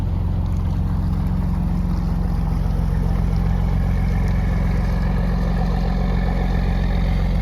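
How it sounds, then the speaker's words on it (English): A tourist ferry engine on a Norwegian glacier lake chugs steadily with a deep, continuous rumble and rushing water noise, close and loud, no voices. "We think this is the ferry boat that brings tourists to this park"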